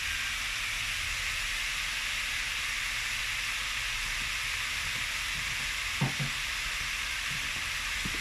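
Bacon and minced meat fry in a pan with a loud, continuous sizzle and hiss, broken near the end by a couple of brief stirring clatters, no voices.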